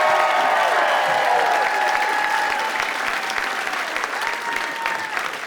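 A live comedy show audience claps and cheers for Tim Dillon, loud dense applause with whoops and tonal shouts riding over it. The clapping stays strong and unbroken, easing slightly toward the end.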